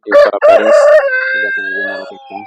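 A Tiger-breed rooster crows loudly and close, a long drawn-out call followed by a few clucking notes.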